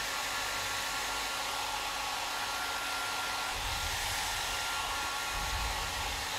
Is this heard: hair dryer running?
yes